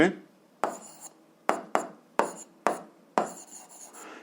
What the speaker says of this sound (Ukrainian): ми записуємо умову і будемо знаходити тоді роботу